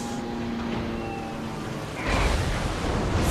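Bomb explosions in the naval video game World of Warships, dropped by a Lexington aircraft carrier's planes: a low rumbling blast swells up about two seconds in and sustains loud over a steady background of game noise.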